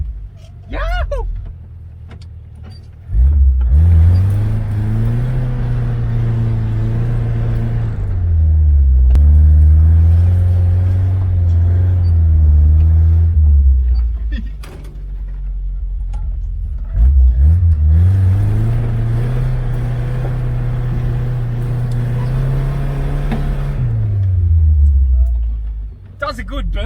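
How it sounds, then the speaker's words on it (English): A lightweight Toyota Hilux fitted with a new engine does a burnout, with two long loud revving bursts that rise, hold and fall, heard close over a rumbling idle between them, while people talk now and then. "Does a good burnout."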